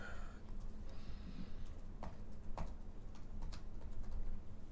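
Computer keyboard typing, a few scattered soft key clicks and taps over a low room hum, faint and irregular.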